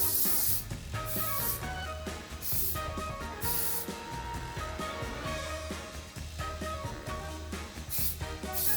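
Repeated short hissing sprays from an aerosol hairspray can onto styled hair, several bursts close up over soft background music.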